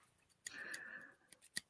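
Scissors snip faintly in a quiet room, one longer slicing cut followed by a few short, sharp clicks of the blades closing.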